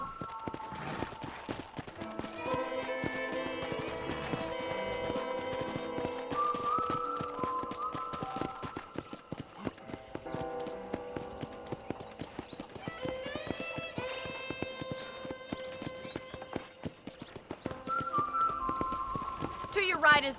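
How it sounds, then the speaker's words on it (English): Close, rhythmic horse hooves from the video game Red Dead Redemption clip-clop steadily throughout over light melodic background music, with a brief whinny-like note. "let's see if you can still ride a horse"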